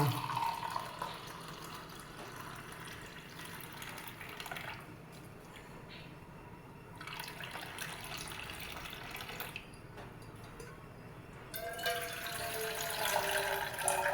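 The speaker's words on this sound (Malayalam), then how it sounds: "ഇത് ഞാൻ ഊറ്റി കളയാട്ടോ വെള്ളം" Water trickles and splashes as it is poured off, a soft continuous stream that pauses and resumes, louder toward the end.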